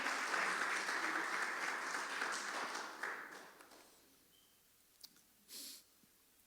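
Congregation applause during a church service, several seconds of steady clapping that fades out, followed by a few isolated faint clicks and a brief breathy noise.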